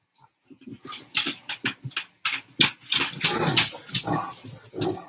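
A pet dog at play barks loudly in rapid, irregular bursts close by, with scuffling and rough play sounds between the barks and no talk over them.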